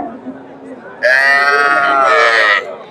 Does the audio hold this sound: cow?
yes